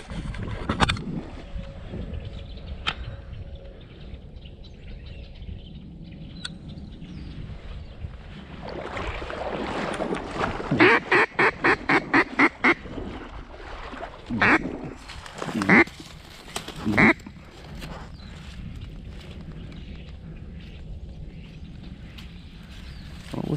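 Mallard and pintail ducks quack outdoors in a rapid burst of repeated calls midway, with scattered single quacks before and after over wind noise and faint water sounds.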